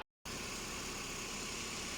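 A Peugeot 406 engine idles steadily while warming up after a cylinder head repair, with a continuous close mechanical hum and vibration running without pause after a brief silent start.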